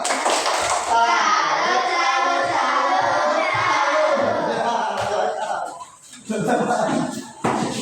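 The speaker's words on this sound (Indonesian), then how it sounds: "Tepuk tangan." A classroom group claps for a student presentation, a burst of scattered hand clapping mixed with children's chatter that fades after a few seconds as voices take over.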